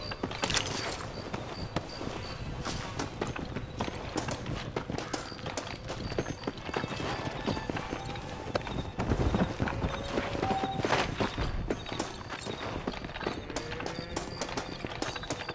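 Horse hooves clip-clop steadily in a Western-frontier video game during a horse race, a continuous galloping rhythm with occasional whinnies under game music and ambience.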